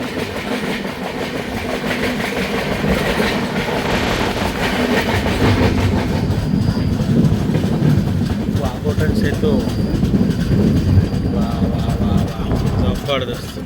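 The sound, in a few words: Mandovi Express train running, heard from inside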